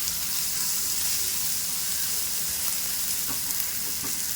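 Potato bhaji mixture with salt being stirred in a hot pan, a steady close sizzle and fry hiss running throughout with a few faint scrapes of the spoon, no voices.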